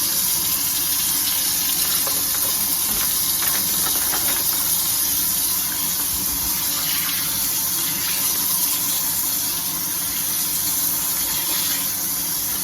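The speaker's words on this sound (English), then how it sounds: "And I always give them a cold water rinse." Steady running cold tap water splashes continuously into a sink while rinsing pork baby back ribs, a constant hissing rush with no talking.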